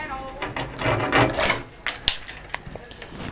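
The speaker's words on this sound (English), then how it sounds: "Now I can cut this strip as well." A thin wooden strip for a DIY Thule sailing kayak is cut by hand in a short, close run of scraping and snapping cuts with a few sharp clicks, fading to light taps.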